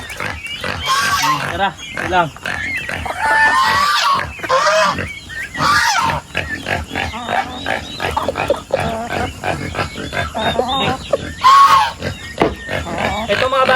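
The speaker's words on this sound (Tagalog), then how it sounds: "Ito mga baboy, dati nakaloob ko doon sa kulungan, kaya lang tumakas" Pigs on a provincial farm grunt and squeal close by, mixed with honking turkeys. The calls come in irregular bursts while a person talks over them.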